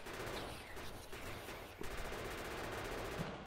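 A turret fires continuously in the video game Factorio, a dense, rapid stream of gunfire that holds steady and loud throughout with no pauses.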